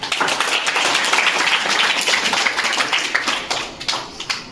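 A crowd claps together in a dense, steady patter that thins out into scattered claps near the end.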